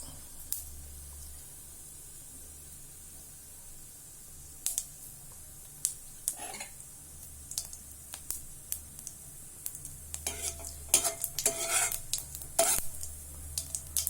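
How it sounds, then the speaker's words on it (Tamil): Onions go into spluttering cumin in a pan for a vegetable masala keema, a quiet background sizzle with scattered spatula scrapes and clicks that become more frequent as the stirring picks up. "ஜீரகம் நல்லா பொரிஞ்சு வர சமயத்தில் வெங்காயத்தை போட்டுருணும்"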